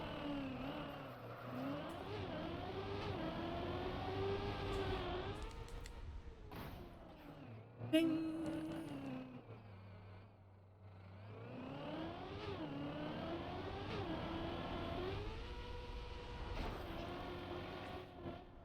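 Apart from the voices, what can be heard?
desert car driving on plastic surface in Trackmania video game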